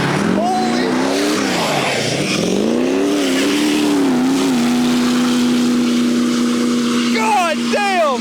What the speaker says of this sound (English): This is the world's most unreliable diesel.